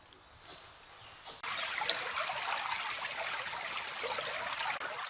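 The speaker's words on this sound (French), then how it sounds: "Je suis tombé sur une belle petite rivière" A small river flows through a forest, a steady rushing trickle that jumps louder after a brief quieter start, close and continuous with no voices.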